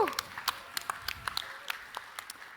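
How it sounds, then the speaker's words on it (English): Scattered applause from a startup pitch competition audience, made up of thin, uneven claps with distinct individual hand strikes spread through the room rather than a full ovation. "A round of applause for Printimed."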